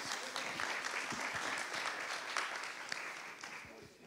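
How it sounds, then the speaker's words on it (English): Audience applause at a conference session on achieving the ocean sustainable development goal, a steady wash of clapping with faint voices mixed in, holding fairly even for about four seconds before tapering slightly. "let's get an applause"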